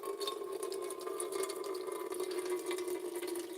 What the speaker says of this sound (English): I'm gonna put some more totally not canal water into this fucking filthy ass fucking pot here.